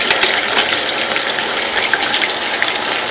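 Loud, dense sizzling and crackling of alcapurrias frying in hot oil, a continuous hiss with scattered pops, close up and without voices.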